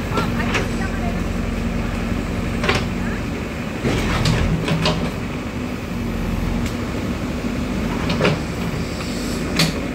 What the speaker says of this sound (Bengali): ট্রেনটা আসছে,